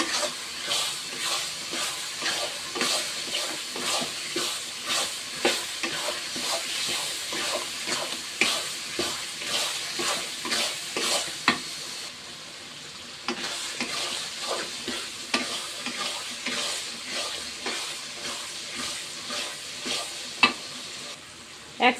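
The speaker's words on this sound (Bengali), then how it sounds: "এটা দিয়ে আমি সুন্দরভাবে এভাবে নাড়তে থাকবো আলতোতে" Amra (hog plum) pickle with panch phoron sizzling in a pan while being stirred gently, with rhythmic scraping strokes over a continuous hiss. The strokes repeat steadily throughout and are heard close up, with no voices.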